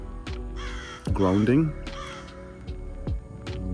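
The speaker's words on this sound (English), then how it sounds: "I'm being visited by a crow here." A crow visiting close by caws several times in a row, loud, harsh calls over someone talking quietly, with a few sharp taps and knocks in the background.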